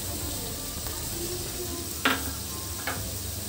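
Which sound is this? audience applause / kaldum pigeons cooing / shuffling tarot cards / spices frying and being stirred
spices frying and being stirred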